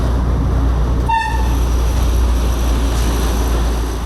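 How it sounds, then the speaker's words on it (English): A train rumbles steadily and loudly while crossing a bridge in Thanh Hoa, Vietnam, with a short horn toot near the start cutting through the continuous rolling noise. "trains are still used by this bridge today"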